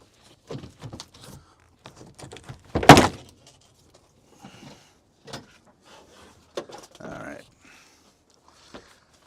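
A door card panel is pried and pulled off the door of a Subaru GC8 in a junkyard, giving scattered plastic clicks, scrapes and one loud sharp clunk, with some talking in between.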